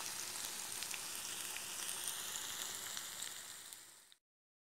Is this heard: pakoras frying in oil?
yes